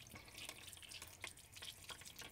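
Water dripping and trickling out of an upturned DreamMat Micro Pocket Sluice, irregular small drips and splashes, faint and close, with no talking.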